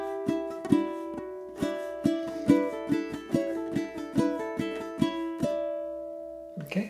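A ukulele strums open chords in a steady, even rhythm through a short passage, each bright strum ringing close and clear, with a final chord landing alone at the end.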